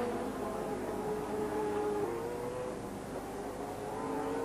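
A race car at the Sandown 500 holds a steady engine drone as it runs down the main straight, fairly faint and distant, with a tone that shifts slightly midway through.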